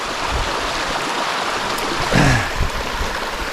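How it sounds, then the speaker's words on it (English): The Whitewater River flows in desert hills below Mount San Jacinto, a steady close wash of rushing water with a brief louder splash or gust partway through. "I think this is the Whitewater River"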